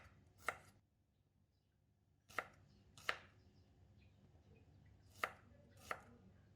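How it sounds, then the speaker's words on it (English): A knife cuts shallots into pieces on a board in five sharp, separate chops spaced irregularly across a quiet background, each one close and crisp. "Next, cut each of the shallot into 2 to 3 pieces."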